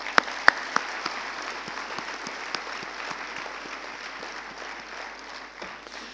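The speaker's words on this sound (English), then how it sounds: "Let's give them a hand" An audience at a medical college convocation ceremony applauds the teachers and administrators: a few loud, close claps open a steady, dense round of clapping that holds and slowly thins toward the end.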